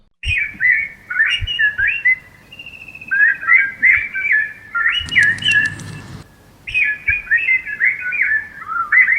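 Several forest birds in the Western Ghats whistle and chirp in bright, repeated phrases, loud and close, with a brief burst of rustling noise in the middle.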